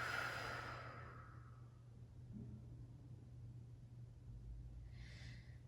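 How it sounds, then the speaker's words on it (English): One deep exhale through an open mouth at the end of a yoga class, heard as a long breathy rush that fades over about two seconds. Low, steady background hum continues throughout and a faint hiss follows near the end. "Inhale in, fill up, fill up, fill up. And open mouth, exhale."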